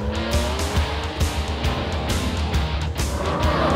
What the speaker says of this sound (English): Vaughn Gittin Jr. and his team with RTR drifting their stuff around.